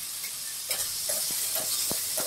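Chopped tomatoes are stirred into masala frying in a pan for UP-style chana nimona. A steady sizzle and hiss runs throughout, with a few scraping stir strokes near the end.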